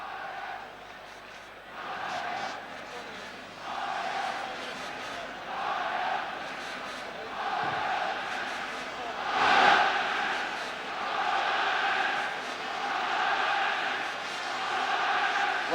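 A stadium crowd of 65,000 awaits the two teams before a European Cup semi-final at the Olympic Stadium, Amsterdam, with a continuous roar of distant voices and rhythmic rising chants throughout.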